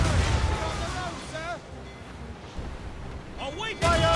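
Ship cannons boom in an Assassin's Creed Rogue naval battle, heavy low blasts rumbling through the opening and returning loud near the end, with shouted voices over the bombardment.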